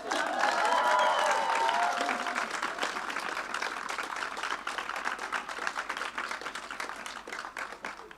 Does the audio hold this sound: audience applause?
yes